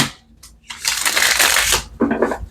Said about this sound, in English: Let's get one more shuffle here for Leo.